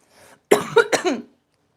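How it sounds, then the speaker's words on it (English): A person coughs hard several times in a quick burst after smoking weed, close by, harsh and chesty, after a brief faint breath. "it's a weed cough, not a COVID cough"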